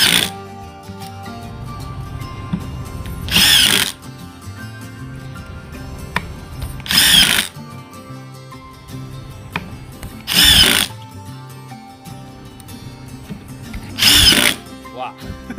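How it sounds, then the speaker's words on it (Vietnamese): Ridgid R87207 18V cordless impact driver driving wood screws, four loud, close bursts of about a second each, spaced evenly, with quieter handling noise between them. "mình sẽ test thử chức năng bắn vít gỗ của nó coi như thế nào luôn ha"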